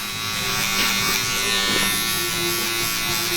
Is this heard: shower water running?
no